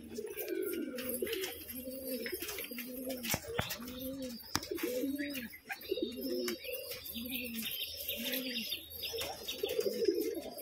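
Pigeons kept on a rooftop cooing in repeated soft, rolling phrases, close by, with a few faint chirps and light background sounds.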